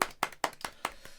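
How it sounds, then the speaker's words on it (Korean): A small group claps hands at the start of a Korean podcast, a few close, sharp claps in quick succession, fairly quiet and not perfectly in unison. "박수 한번 치고 시작할까요?"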